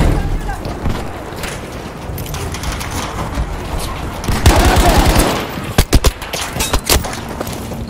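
Rapid bursts of machine gun fire in Battlefield V, loud and close, with sharp individual shots near the end and a voice talking over the action.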